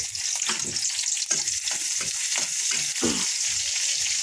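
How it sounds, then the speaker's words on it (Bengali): Onion sizzles loudly in hot oil at the start of a fish and potato curry, a dense close frying hiss broken by repeated stirring scrapes. "তেলটা ভালোভাবে গরম হয়ে গেছে দিয়ে দেবো পেঁয়াজ"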